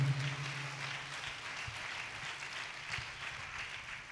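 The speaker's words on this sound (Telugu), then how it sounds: "చప్పట్లు కొట్టి దేవుడు మహింపరుద్దాం గట్టిగా" A church audience claps to praise God, producing a soft, steady wash of applause heard at a moderate distance with a faint hum underneath, sustained for several seconds.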